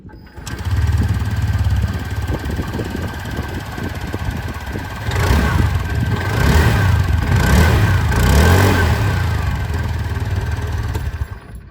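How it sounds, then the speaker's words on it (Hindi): A TVS Jupiter 125 scooter's engine idles close by with a low, steady exhaust putter, then is revved several times, the note rising and falling before settling back to idle. "आप लोगों ने यहाँ पर जुपिटर की जो एग्जॉस्ट साउंड है वो भी सुन ली है"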